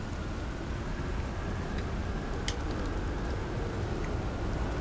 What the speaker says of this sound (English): we're just listening to the thunder and the rain